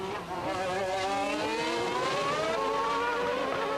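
Formula 1 cars racing at Monaco in 1992, Mansell's car hard on the tail of a McLaren, a loud high-pitched engine whine rising and sustained as the cars scream past close by.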